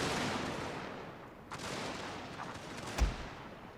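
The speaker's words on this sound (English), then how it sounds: "we're gonna just pummel the enemy with fire, with musket fire" Musket volleys crackle in a Total War battle, a dense rumbling din of massed fire with a few sharper distinct cracks standing out, the loudest near the end.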